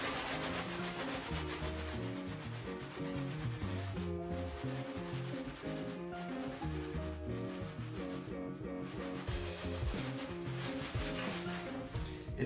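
Dry maple seeds and crumbling leaves rubbed together inside a bag, a close, steady rustling and scratching that continues throughout at low volume.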